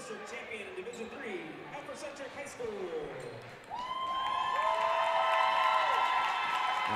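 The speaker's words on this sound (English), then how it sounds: "One last big round of applause for the Centerburg Trojan squad." After a stretch of crowd murmur and talk, a girls' high school basketball crowd at a district final breaks into sustained applause and cheering for the Centerburg squad, with a few whistling tones over the clapping.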